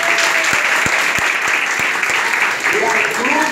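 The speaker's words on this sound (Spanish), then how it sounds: "Rizik Lugo, un aplauso a él y su comisión" A crowd at a community sports club gathering claps loudly and continuously, with some voices and cheering mixed in.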